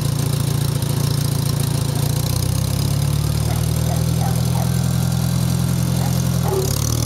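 A 1973 IH Farmall 140 tractor engine idles steadily, then picks up a little throttle and settles into a slightly higher, even running note, loud and close, with no talking.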